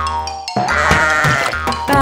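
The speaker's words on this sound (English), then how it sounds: "Baa Baa, black sheep, have you any wool?" Sheep bleats within a children's nursery rhyme song, several short loud calls over music, clearly foregrounded.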